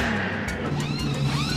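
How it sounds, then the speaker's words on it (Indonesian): A NASCAR race car engine drones briefly, a steady mid-pitched roar heard at moderate distance with faint clicks over it. "Ini adalah mobil NASCAR."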